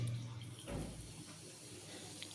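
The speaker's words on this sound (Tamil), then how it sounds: "உடனே ரியாக்ஷன் ஸ்டார்ட் ஆயிடுச்சு. CO2 ஜென்ரேட் ஆக ஆரம்பிச்சிருச்சு." A homemade CO2 generator bottle for a planted aquarium fizzes as its reaction starts, giving a soft, steady close hiss with faint bubbling and no talk.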